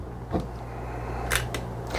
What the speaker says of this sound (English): We're firing photos off.